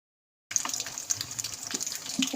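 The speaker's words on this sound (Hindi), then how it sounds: "इसे अब करते हैं फ्राई। यहाँ पे ऑयल भी गर्म है।" Tikka pieces frying in hot oil in a home kitchen, a steady bright sizzle with crackling pops throughout, starting after a brief silence, close and fairly loud with no talk.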